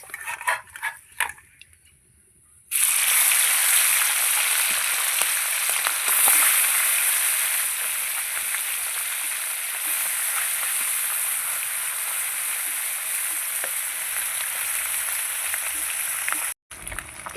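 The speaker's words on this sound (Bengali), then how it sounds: "এবার মাছগুলো ভেজে নেব" Small puti fish fry in hot oil in a wok: after a few seconds of light clatter, a loud dense sizzle bursts in and holds steady and close for over ten seconds, briefly cutting out near the end.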